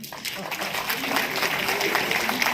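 Audience applause at an award ceremony honouring dignitaries at Bharat Mandapam, a dense steady clapping wash lasting throughout, with a voice partly audible underneath.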